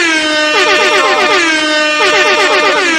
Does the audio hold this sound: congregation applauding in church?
no